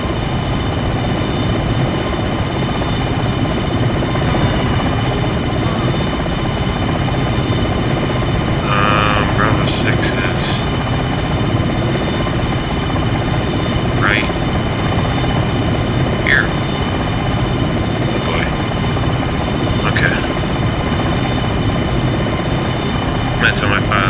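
Black Hawk helicopter hovering in a military video game, a steady loud rotor and engine drone running the whole time, with brief radio-style voices breaking in over it.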